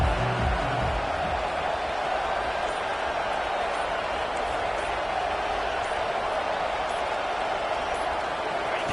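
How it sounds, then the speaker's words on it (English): Steady roar of a stadium crowd at a Utah vs Arizona college football game, a dense continuous wash of cheering and noise that holds loud and even throughout with no clear individual voices. "this crowd is fired up. Listen to this noise here."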